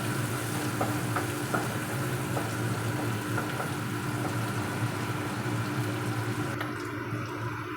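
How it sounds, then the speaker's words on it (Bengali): Chopped onion, green chili and cumin sizzle steadily in a hot pan, a dense continuous frying hiss with faint stirring clicks, then a brief clatter near the end. "পেঁয়াজটা হালকা করে ভাজা হয়ে গেছে"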